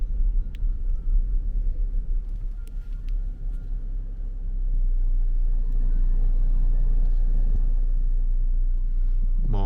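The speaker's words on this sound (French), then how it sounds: "Une voiture." A car passes along Route 66 between Tucumcari and Gallup, New Mexico, a low rumble that swells and stays loud under steady wind-like noise.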